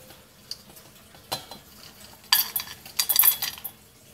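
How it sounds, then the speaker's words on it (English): Hard, shriveled dried ginger pieces dropped into a bowl, giving a few scattered clicks followed by a brief burst of clattering and clinking, close and moderately loud. "we are going to take our ginger, put it into the bowl"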